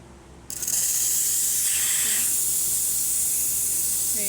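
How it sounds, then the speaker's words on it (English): A loud, continuous steam hiss from the steam wand of a Pasquini Livia G4 espresso machine, badly scaled, starts abruptly after a brief quiet moment and holds steady, with a faint low hum beneath it. "There you can see we're still getting steam, and the machine is no longer filling."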